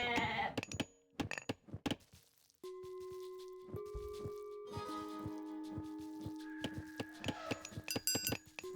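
Goats in Age of Mythology give several short bleats in a row, then a sustained bell-like tone with ringing harmonics and scattered clicks, clean and close.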